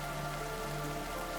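Heavy rain in a cartoon, a steady, even hiss of downpour with no breaks, fairly faint and alone, without any voices.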